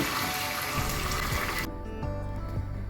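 Water poured from a tap into a measuring cup for cashew upma, a loud close gush that cuts off abruptly partway, then a quieter pour and gurgle continues.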